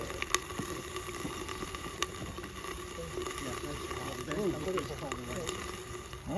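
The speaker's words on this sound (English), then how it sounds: "I'm surprised it's still bubbling. There's a lot of moisture." Molten lead poured into a damp mold to cast a ballast keel bubbles and sizzles in a steady, fizzing stream, with faint clicks and pops throughout and low voices murmuring nearby.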